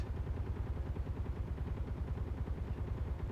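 Turret gunfire in the video game Space Engineers rattles in a fast, steady stream of low, muffled bursts, continuous and fairly quiet throughout.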